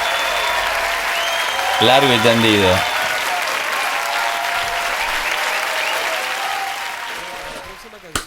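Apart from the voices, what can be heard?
applause for a live performance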